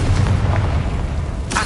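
A Confringo fire spell bursting in the video game Hogwarts Legacy: a loud, sustained low boom rumbling throughout, with a sharp crackling burst at the end.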